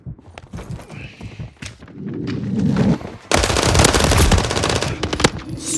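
Gunfire in Call of Duty MW3 multiplayer on the Greece map, with a JAK Purifier: loud rapid automatic bursts and scattered single shots, dense and close, with sparse background effects between volleys.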